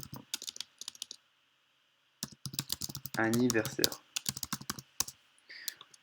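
Typing on a QWERTY computer keyboard, a quick run of light clicking keystrokes in bursts with pauses, close and clear, while someone talks between and over the keys.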